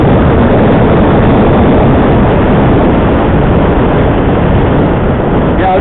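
Heavy motorcycle engine droning steadily while riding on a road with hairpin bends, loud and continuous throughout with wind-like broadband rumble and no talking.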